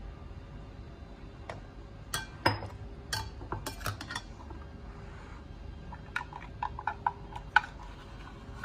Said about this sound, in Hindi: हम अदरक लहसुन का पेस्ट और पिसी हुई छोटी इलायची जो है वो डाल देंगे और उसको थोड़ा सा मिक्स कर लेंगे।